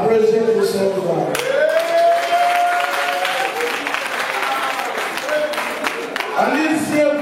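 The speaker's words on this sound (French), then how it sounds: "Applaudissez pour ce soir." Audience at an evening show breaking into loud, dense applause and some cheering, sustained for several seconds, with a voice and tonal music mixed in over the clapping.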